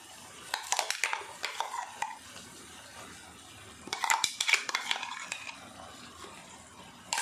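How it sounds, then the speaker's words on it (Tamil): A ladle stirs ginger kuzhambu in a metal pot, producing two bursts of clinking, scraping metal strokes separated by a quiet pause, close but fairly soft, with no talking. "போட்டு கரண்டி வச்சு நல்லா கலடி விட்டுலாம்"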